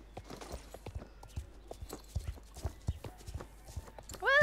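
Horse hooves clip-clop in a steady walking rhythm on a trail ride in the Star Stable Online game, soft and close, ending with a brief whinny.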